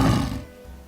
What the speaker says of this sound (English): they have one of the loudest roars of all the big cats